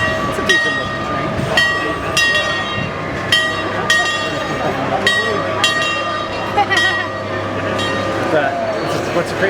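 A roller coaster train rolls along its track at a coaster enthusiasts' event, with a steady mechanical rumble broken by repeated sharp clacks and rattles at irregular intervals while people talk nearby.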